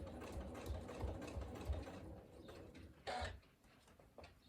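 A sewing machine stitches straight across a workshop bag, its needle thumping in a steady mechanical rhythm with brief pauses and a sharper whir near the end, close and alone.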